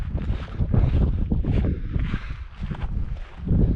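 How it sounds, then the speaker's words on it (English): Strong, cold wind buffets the microphone on a hike in loud, rumbling gusts that rise and fall continuously, with no voices. "It's very windy and cold."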